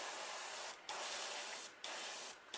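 Short hissing bursts from a spray gun painting a fishing lure, three quick passes separated by brief pauses, close up and with no talking.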